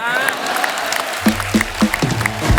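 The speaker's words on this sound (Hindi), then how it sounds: "माता पिता के लिए जोरदार तालियां।" A studio audience at the Kapil Sharma comedy show bursts into loud applause, with clapping swelling alongside a voice and punchy low beats that join partway through.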